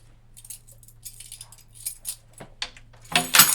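A set of metal keys jingles and clinks close up in short bursts, building to a sharper metallic rattle and crunch as the keys break at the end.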